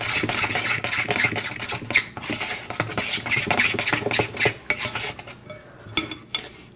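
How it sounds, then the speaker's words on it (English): Peanut butter energy ball ingredients, including shake mix, being stirred together in a bowl, with steady scraping and clinking of a utensil against the dish, close and continuous with no talking. "Okay, let's mix all that up."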